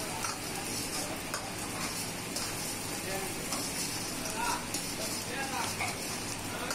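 Vegetables for restaurant-style street veg noodles sizzle steadily in a hot pan with scraping stirs, a dense continuous hiss with faint talk under it.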